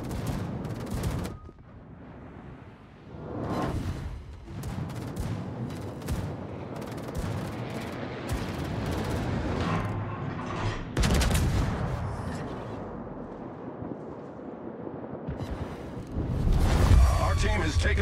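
Naval gunfire in World of Warships from a tier 9 USS Alaska cruiser, with heavy booming salvos and rumbling blasts spread across the clip, mixed with game voice lines and background battle noise.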